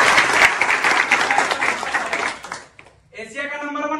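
Loud applause from a room of students at a training institute, a dense burst of clapping that drops away, then a voice starts talking.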